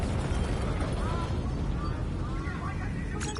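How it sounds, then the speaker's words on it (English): Explosions roll across a facility in a PS4 video game, a dense, continuous low rumble of blasts with occasional sharper bursts. A voice speaks briefly over the din. "we have multiple explosions across the facility"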